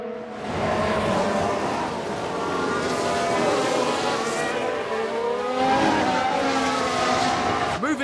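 Tyres squeal through a car spin in F1 Manager 22 during a 1992 race with a Jordan, a loud continuous screech with wavering pitch over engine roar, sustained for several seconds.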